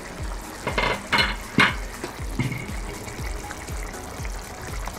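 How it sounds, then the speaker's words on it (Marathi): Stuffed brinjal curry (bharli vangi) steams in a covered pan, a continuous low bubbling and sizzling with a few louder hissy bursts early on, moderately close and without speech. "आणि आता झाकण ठेवून वाफेवर शिजू द्यायची"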